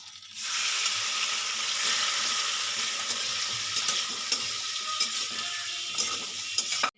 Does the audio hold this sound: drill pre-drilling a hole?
no